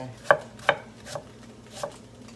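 Cut-up apples, golden and red varieties, dropped into a pan of heating applesauce, giving two sharp thuds followed by two softer ones, close by, with no talking over them.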